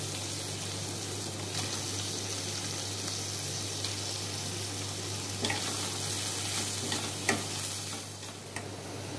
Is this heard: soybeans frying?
yes